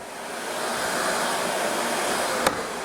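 SEBO Airbelt E2 Turbo vacuum cleaner switched on, its motor rising into a loud, steady whooshing drone, ending with a single short click.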